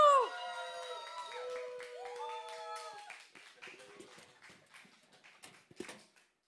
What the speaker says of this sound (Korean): 큰 박수로 네 우리 장 목사님 환영해 주시면 좋겠습니다